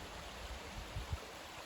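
Small feeder creek trickling through a Kentucky backwoods ravine, a faint, steady wash of flowing water with a few soft low bumps and no speech.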